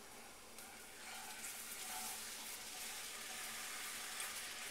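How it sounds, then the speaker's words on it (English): A quiet, continuous splashing trickle as milk is poured slowly into a pan for a white sauce, with the flow growing slightly fuller partway through. "Just slowly add in your milk."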